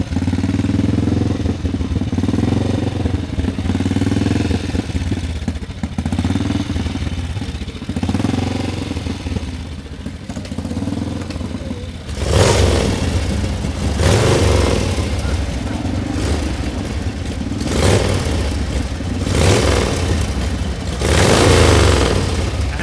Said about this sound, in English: that is what a real motorbike sounds like. Go Indian. No overhead cams, no overhead valves, just the side valves.